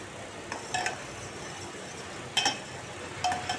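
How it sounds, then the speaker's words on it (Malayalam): A spoon stirs food in a cooking pot so it softens, giving three faint, scattered clinks against the pot over a quiet background. "ഇങ്ങനെ ഇളക്കി കൊടുത്ത് ജസ്റ്റ് ഒന്ന് സോഫ്റ്റ് ആവണം കേട്ടോ"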